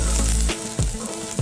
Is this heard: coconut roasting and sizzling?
yes